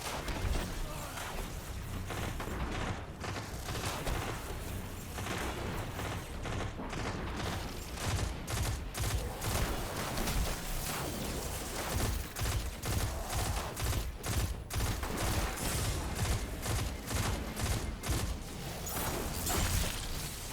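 Rapid hip-fire gunshots in the video game Destiny 2 (Shadowkeep), a long, steady stream of closely spaced shots with mechanical clatter, loud and continuous without talk.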